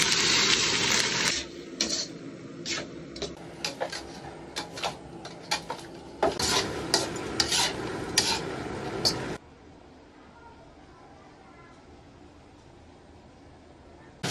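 Chicken is tipped into a wok of hot oil with spring onion, ginger and garlic, giving a loud hissing sizzle broken by clanks and scrapes of a utensil, then dropping abruptly to a quiet low sizzle.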